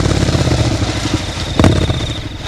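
A motorcycle engine idles close by with a throbbing mid-pitched chug as the rider gets off. A short clunk lands partway through, and the motor keeps running steadily underneath.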